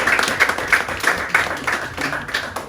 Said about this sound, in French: Acclamez pour moi.